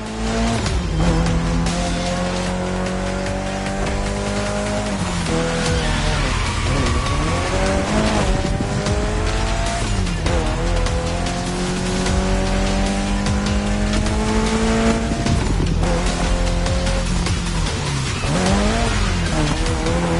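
Mitsubishi Lancer Evo X with a custom build racing in The Crew Motorfest, its engine droning loudly and steadily with rising and falling revs through gear changes, plus tire squeal and skidding through corners, heard alone without talk.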